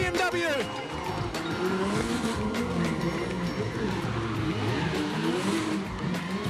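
A little SR BMW race car charges past at a motorsport festival with tires squealing, its engine a loud, continuous roar under a commentator's voice.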